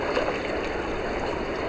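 Ducks swim in an unheated outdoor pool, and the water makes a steady, moderate trickling and splashing sound that continues throughout with no voices.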